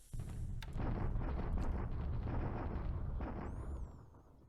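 Rumbling artillery bombardment explosions in War in the Pacific, a dense roll of overlapping booms and bursts that runs several seconds before tapering off, with a brief whistling tone near the end and no speech.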